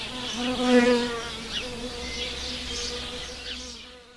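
Solitary bees, including wool carder bees, buzzing close by in a garden, a steady droning hum that rises and falls over several seconds.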